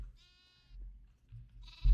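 Sheep in the game Minecraft give two short, bright bleats with a quiet gap between them, set over low background noise and without voices.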